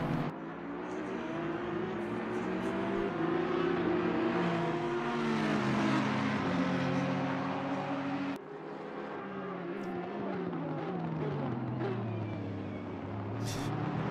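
GT3 race car engines at Spa-Francorchamps in Assetto Corsa Competizione, a loud sustained engine drone rising and falling through gear changes, with a shift in pitch partway as cars pass.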